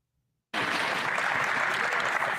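Applause in a legislative chamber during Question Period, bursting in abruptly after a moment of silence and continuing as a dense, steady clatter of many hands.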